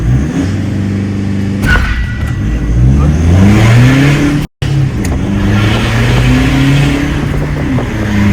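A stationary car engine with launch control revs hard and holds at the limiter, bouncing in a rapid stuttering drone, with a short cut halfway before revving again.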